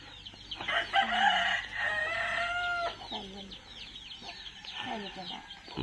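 Chickens and a rooster crowing, with a loud, drawn-out crow up front and scattered clucks and bird calls after it, heard alongside people talking nearby.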